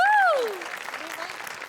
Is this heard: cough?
no